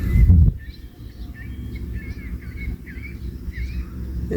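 Several seagulls give repeated calls near a marina, with a brief loud bump at the start and steady low outdoor rumble beneath the moderately close cries.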